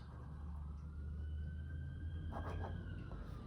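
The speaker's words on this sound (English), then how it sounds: "There's sirens." A distant siren wails faintly over a low background rumble, its long tone sliding slowly downward.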